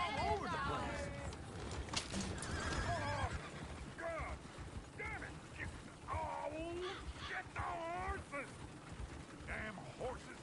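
A horse whinnies repeatedly in an outdoor setting, its high wavering neighs rising and falling across the whole stretch, mixed with hoof clip-clops, cooing pigeons and birdsong, while voices talk in the background.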